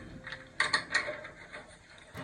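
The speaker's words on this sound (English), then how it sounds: "So we will go ahead and place the first screw in place." A screw is set into a dryer housing, giving a few faint metallic clicks and scrapes close by in a quiet room.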